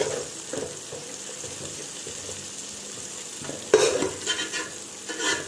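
Fried young jackfruit from a fresh tree is lifted out of a frying pan, giving a steady low sizzle with soft scraping, then a sharper burst of clinks and stirring toward the end, with no talk.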